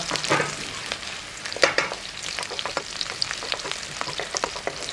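Garlic sizzles and fries in a hot pan for a Korean-style pepper and meat stir-fry, giving a steady crackling hiss with scattered sharp pops and a few stirring scrapes, close and alone without talk.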